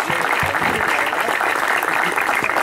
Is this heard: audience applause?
yes